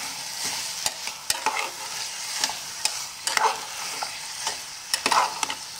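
Roasted, washed black field beans are stirred into a sizzling onion-tomato masala for a spicy curry, with repeated close scraping and clacking of a spoon against the pan over a soft frying hiss and no talking.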